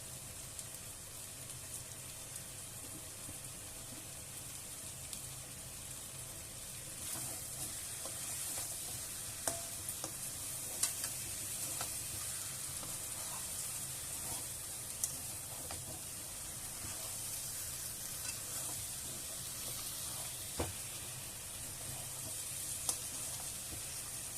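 Prawns stir-fried with taro stolons in a pan, a faint, continuous low sizzle with scattered soft scrapes and ticks from stirring, steady throughout with no voices.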